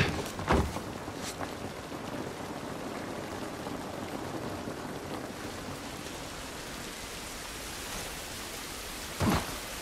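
Rain falls outdoors in the video game The Last of Us, a steady close hiss of drops on surfaces broken by a couple of brief heavier thumps.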